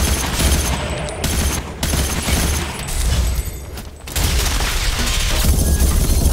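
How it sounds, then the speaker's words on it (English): Dense gunfire in the online shooter Ghost Recon Phantoms, loud continuous bursts of rapid shots with booming hits and brief pauses, heard alone without talking. "Who is shooting me?"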